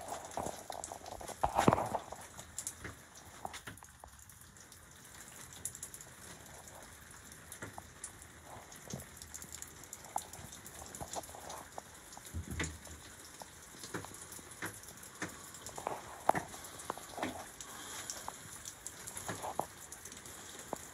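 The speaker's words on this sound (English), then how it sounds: "At last, we've got the rain." Rain falls steadily on outdoor surfaces in Jaywick, a soft continuous patter with scattered louder drips and taps, fairly faint and close, with no talking.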